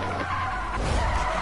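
A car skids in the MW3 Zombies video game, a loud steady tire screech with engine rumble underneath, filling the short moment with no talk.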